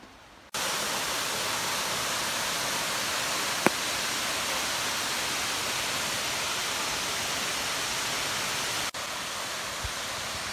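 The large waterfall of the Vielia torrent roars as a dense, constant broadband rush, loud and close, starting abruptly after a quiet moment and holding steady throughout.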